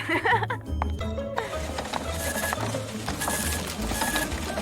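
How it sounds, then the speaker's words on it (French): A printer keeps printing with a continuous mechanical whirring and rhythmic feed clatter, while people talk over it and someone laughs. "Oh non, ça continue d'imprimer."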